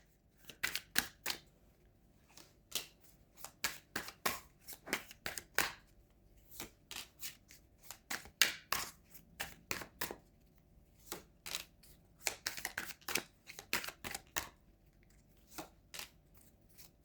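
Tarot cards are shuffled by hand in a quiet room, giving repeated crisp riffling and snapping bursts in an irregular rhythm over about seventeen seconds, close and fairly soft.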